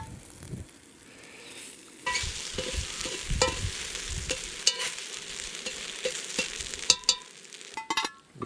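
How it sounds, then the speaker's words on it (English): Food sizzles and crackles steadily in a hot pan at a snowy winter campsite in the Victorian Alps, a loud continuous frying hiss with occasional pops and scraping. "Just them sizzling away."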